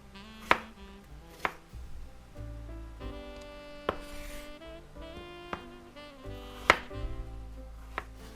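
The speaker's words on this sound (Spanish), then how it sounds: "ahora volvemos a girar y cortamos en cuadraditos" A knife chops pork into small cubes on a cutting board, landing a handful of sharp, spaced single thuds over soft background music, close and fairly quiet, with no talking.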